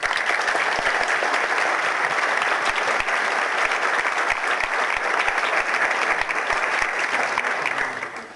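An audience at a public-service ethics event gives a long, loud, steady round of applause for a Supreme Court minister being introduced as a speaker, with dense clapping that holds evenly before fading at the very end.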